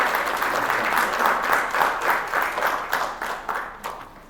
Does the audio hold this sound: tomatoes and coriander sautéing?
no